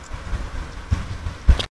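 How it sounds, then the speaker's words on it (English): A TGV high-speed train rumbles past outdoors, a low, uneven roar with a couple of louder swells before it cuts off abruptly. "That's TGV, the faster train has gone."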